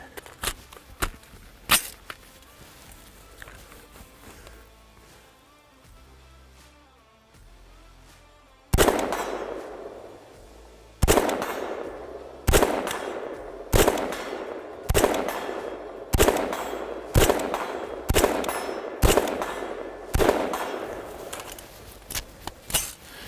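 Faxon Sentry defensive rifle shots ringing off a steel target outdoors, about a dozen loud sharp cracks spaced a second or two apart, preceded by several earlier shots and quieter handling noise.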